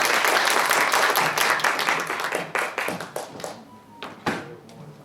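Audience applause at a Hanam party chapter meeting ahead of the June 1 local elections, a dense burst of clapping that thins out into scattered individual claps toward the end.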